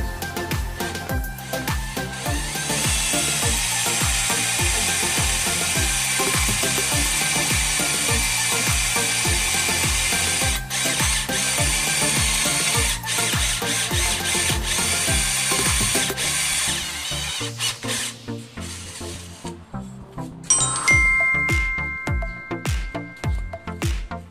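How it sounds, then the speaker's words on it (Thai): A cordless drill runs loud and steady for a long stretch as it bores into steel, then stops and gives a few sharp clicks and short revs. "เจาะเหล็กนะครับ"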